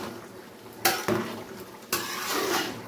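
Boiled taro stalks being stirred in a pot, with several sharp utensil scrapes and clanks against the metal separated by quieter gaps.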